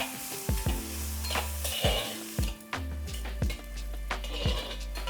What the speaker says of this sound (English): Saute the onions till they are soft and translucent.